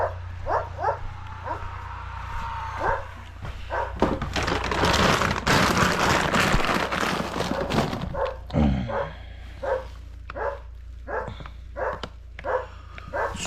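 A dog at a construction site barks in repeated bursts of sharp, yipping barks, with a stretch of loud rustling noise in the middle before the barking resumes close by.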